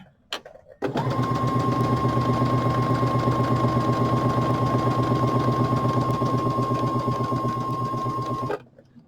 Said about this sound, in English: I'm going to lay it on top, and then I'm going to sew that.